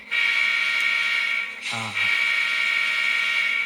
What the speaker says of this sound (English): Let's try the horn.